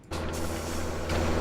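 A small tractor engine from the Farming Simulator 17 video game drones steadily as it works out in a field. The hum is loud, constant and low-pitched, and it swells slightly near the end, with no talking over it.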